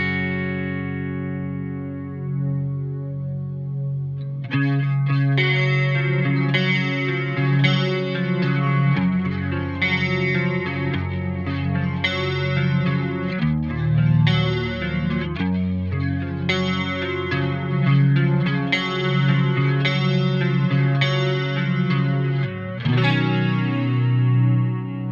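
Neyrinck Symphonic plugin emulates a Yamaha SPX90 chorus preset on a sustained electric instrument: a single chord rings first, then chords play with a lush, shimmering chorus swirl, steady and upfront, with no voices.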